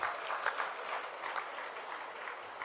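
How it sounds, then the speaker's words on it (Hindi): An audience at a political rally in Rajasthan claps loudly, a dense, lively crackle of many hands that rises and falls slightly but keeps going throughout. "ताली जोरदार बजाओ।"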